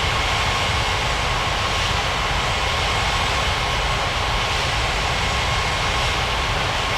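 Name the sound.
airliner taxiing to runway in 3D flight video game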